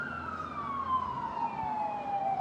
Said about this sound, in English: you can probably hear all those police sirens